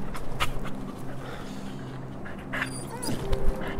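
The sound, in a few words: dog panting and whimpering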